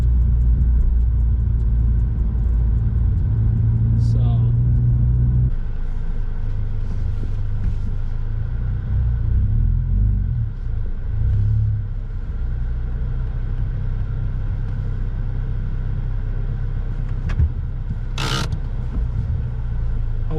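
A 2020 Ford Mustang EcoBoost with a new Circuit Concept catback exhaust rumbles low and steady at close range, with a deep exhaust drone that dips and swells gently and briefly settles to a lower idle.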